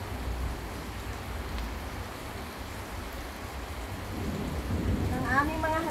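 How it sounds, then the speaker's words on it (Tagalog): A heavy downpour hisses steadily over a low rumble of thunder, and a brief bird chirp rises near the end, recorded outdoors among potted plants in the Philippines during a storm. "Lakas ng ulan. Grabe,"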